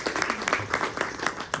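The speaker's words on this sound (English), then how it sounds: "One more round of applause for all of our students that presented." A lecture audience gives a short round of applause for presenting students, brisk scattered clapping at moderate volume.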